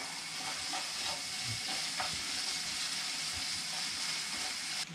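Steady, dense sizzling of spices, black pepper and salt, frying in a hot pan for içli köfte filling, with a few faint clinks of stirring; no voices.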